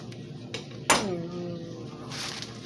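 A utensil strikes and scrapes a metal pot while food is stirred during a short-rib and Caesar salad cook, with one bright ringing clank among lighter clinks, close and alone.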